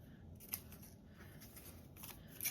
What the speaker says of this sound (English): I'm gonna cut the letters off.